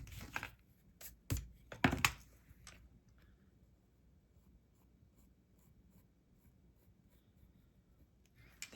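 Pencil scratching on paper during a beginner watercolor lesson, a few quick close strokes in the first two seconds, then near silence with a faint stroke at the end.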